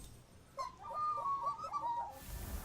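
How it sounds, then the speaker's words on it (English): A magpie-like call from Temtem monsters being knocked out in a video game: a warbling, bird-like run of several quick chirping notes lasting about a second and a half, fairly clear against a quiet background. "it sounded like a magpie to me, those two monsters, when they got knocked out"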